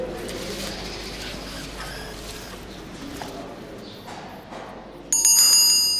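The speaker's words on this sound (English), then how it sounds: "Well, the bell tolls, but for whom?" A bell rings out loudly and clearly near the end, its bright metallic tone cutting sharply over a steady ambient bed of cooing birds and faint outdoor noise.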